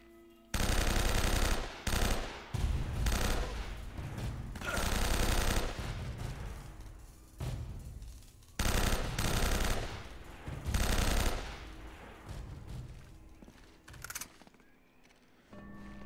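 Loud automatic gunfire from heavy weapons in the video game Uncharted: Drake's Fortune comes in long sustained bursts separated by short gaps, with fainter scattered shots near the end.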